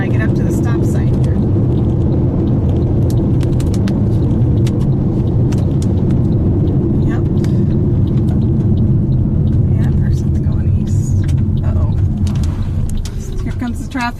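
Road traffic rumbles and swishes past, heard from inside a Toyota RAV4 waiting at a stop sign during a Texas tornado chase; the steady engine and tire roar stays loud and close, with a voice talking over it.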